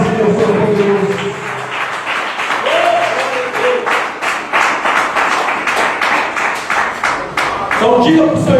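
A Pentecostal church congregation claps, with rhythmic, emphatic beats and a few voices calling out over the hands, the clapping loud and close throughout.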